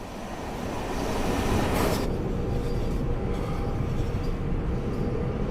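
Trains rolling past on a simulated commuter line from Grand Central Terminal to Stamford, a steady rumbling roar of wheels and cars holding for the whole stretch, with a brief brighter swell early on.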